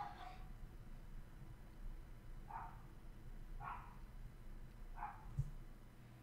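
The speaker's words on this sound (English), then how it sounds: "Apologies about the dog barking outside if you can hear it." A neighbour's dog barks outside, heard faint and distant as four widely spaced single barks over a low indoor background hum.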